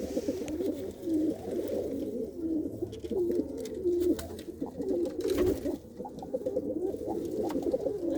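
Pigeons coo steadily in a loft, soft continuous throaty calls overlapping one another throughout, with no talking.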